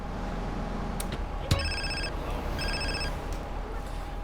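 A telephone ringing in GTA San Andreas, two bursts of electronic trilling ring over steady game background noise, with a sharp click just before the first ring.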